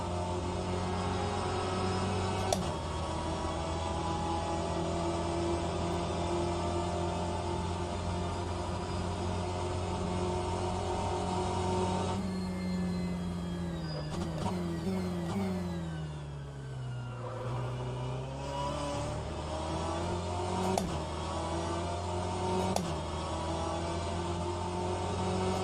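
In the Le Mans Virtual sim racing game, a race car engine drones and whirs at a high pitch with a vacuum-like tone, rising and falling through several gear shifts and dipping low midway before climbing again.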